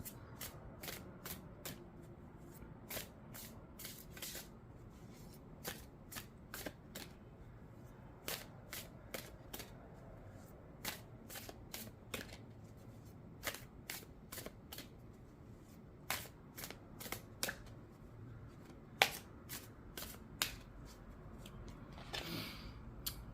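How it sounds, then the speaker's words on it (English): Tarot and oracle cards being shuffled in a quiet room, a long run of soft riffles and crisp flicks with regular card snaps, close and alone with no voices. "I want to pull an animal card for you and a flower card for you"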